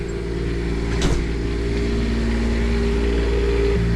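Onan QuietDiesel 7500 diesel generator running steadily at high idle, a constant close engine drone with a low hum and harmonic whine, no talking.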